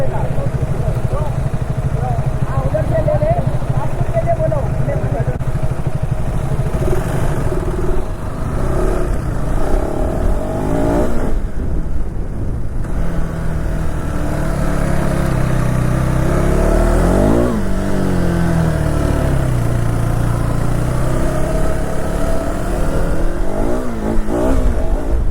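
A KTM Adventure 390 motorcycle engine revving in a loud, continuous run of rising and falling sweeps, close and steady, with people speaking underneath.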